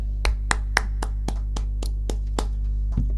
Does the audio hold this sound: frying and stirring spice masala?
no